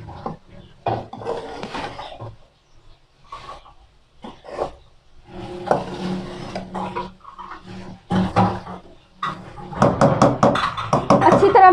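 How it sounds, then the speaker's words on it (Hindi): Boiled macaroni being stirred in a pot: irregular knocks, scrapes and clanks of a utensil against the pot, in scattered clusters with short pauses between them. "इसको अच्छी तरह मिक्स करेंगे।"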